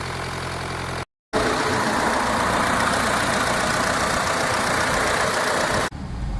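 A Mahindra Renault Logan engine idles steadily at a garage after repair work, with a constant rumble and hum, cutting out briefly for a moment before running on evenly.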